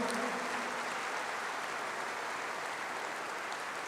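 Audience applause fills a hall at the 25th Zlatna Bubamara popularity awards show in 2022. It is a dense, steady wash of clapping that holds at an even level from start to finish, with no voices over it.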